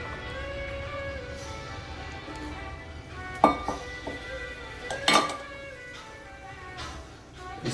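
Chopped ridge gourd goes into a cooking pot with water, marked by two sharp metallic clinks of a utensil against the pot over a soft kitchen background.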